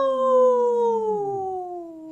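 A person imitates a wolf howl on a radio show: one sustained, wavering howl that slowly slides downward in pitch for about two seconds, heard alone and close.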